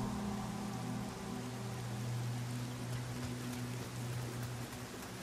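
Steady, dense rain falls across the scene in the video game Nioh, a continuous hiss of raindrops with a low hum beneath, unbroken throughout with no talking.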